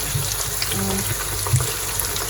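Water running from a tap during late-night home cooking, a steady, fairly quiet gushing hiss with a few small clinks and bumps, no talking.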